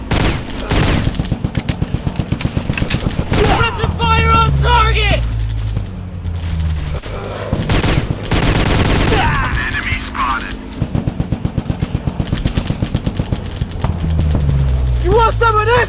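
Rapid suppressive gunfire in the Commando fighting game, dense bursts of automatic shots with booms and shouting voices layered over the shooting throughout.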